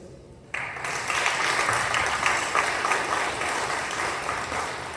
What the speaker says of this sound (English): let's give a round of applause for our new elected officials